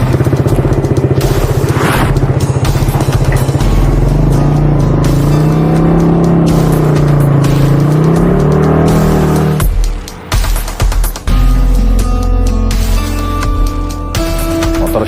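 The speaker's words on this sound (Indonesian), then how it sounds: "Motor siapa sih berisik banget?" A motorcycle with a loud, noisy exhaust revs and roars up close, its engine tone rising and falling, briefly cutting out before returning at a steady drone.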